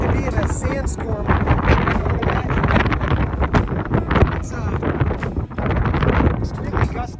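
Strong, gusty wind sweeps across the dunes during a sandstorm at White Sands National Park, roaring and buffeting the microphone loudly, with blowing dirt and a person talking over it.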